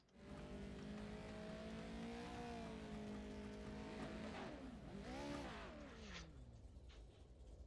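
Pro 2 Liter race trucks revving and accelerating nearby, a loud engine note rising and falling in pitch with a sharp swoop midway, then easing off as they pull away; no talking.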